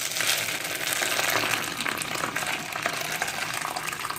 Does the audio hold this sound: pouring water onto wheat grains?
yes